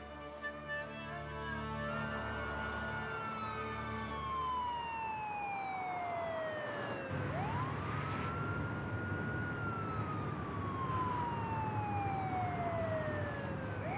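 An ambulance siren wails in long falling and rising sweeps, starting distant and growing nearer and louder partway through, with traffic rumble underneath and no talk.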